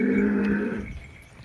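A Holstein Friesian heifer calf gives a single loud, close moo that fades out after about a second.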